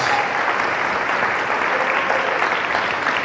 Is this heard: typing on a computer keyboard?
no